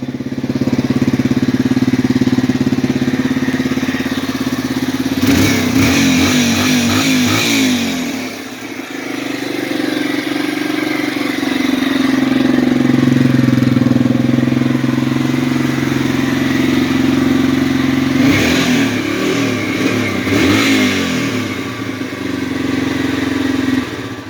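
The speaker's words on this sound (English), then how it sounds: "So I've had the bike running about 15 minutes, and she idles real good." A 2003 Yamaha dirt bike engine idles steadily and loudly up close, with two brief throttle blips breaking the even putter, one early and one near the end.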